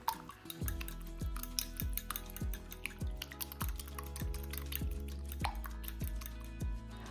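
A fork clinks rapidly and rhythmically against a bowl, a steady beat of bright taps as eggs and cheese are whisked, with music underneath.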